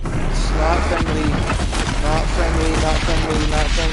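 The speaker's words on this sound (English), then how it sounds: "all of those things are explosives that he's shooting out, and it's not friendly" A machine enemy in Horizon Zero Dawn fires explosives, producing loud, rapid bursts of blasts and crackles in a dense, continuous barrage, with faint speech mixed in.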